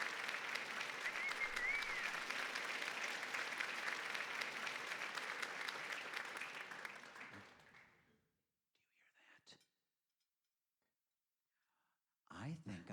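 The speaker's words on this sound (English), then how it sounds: "I think we owe her a round of applause for all of her hard work" Applause at Rossi's for Susan, a dense round of clapping that holds steady for several seconds, then fades out into quiet before a brief burst of sound at the end.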